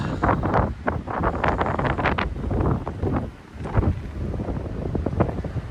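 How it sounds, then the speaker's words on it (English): Strong wind buffets the microphone outside a camping pod at a lakeside holiday park in the Lake District, with loud, continuous gusting roar that surges and dips without a break. "as soon as you step out here, there's that wind"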